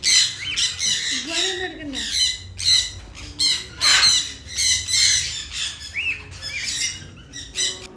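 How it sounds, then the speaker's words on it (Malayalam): Harsh, loud macaw squawks repeat in quick bursts close by, one after another, with a voice speaking briefly among them. "രണ്ട് മെക്കാവും ഉണ്ടായിരുന്നു അവിടെ പിന്നെ കുറേ വെറൈറ്റി കിളികളൊക്കെ ഉണ്ടായിരുന്നു"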